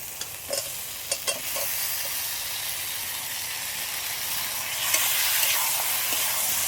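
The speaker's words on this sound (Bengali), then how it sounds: "আলু আর ঝিঙে ভালো করে কষিয়ে নিয়েছি" Fried potato and ridge gourd sautéed in spiced oil, a continuous close sizzle with a few sharp scraping stirs near the start and a slight rise in hiss toward the end.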